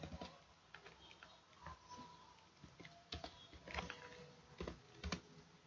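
Someone types on a computer keyboard with steady, close key clicks, each keystroke crisp and separate, while pigeons coo faintly in the background.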